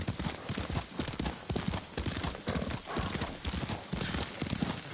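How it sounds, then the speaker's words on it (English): Horse hooves gallop steadily in Ghost of Tsushima, a loud, fast rhythmic drumming throughout with an occasional whinny, and faint speech in the background. "Lord Sakai taught me to ride a horse"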